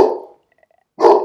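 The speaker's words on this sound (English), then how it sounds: "this is my dog barking" A dog barks indoors, loud and close, one bark fading out and another starting after a quiet pause broken only by faint high tones.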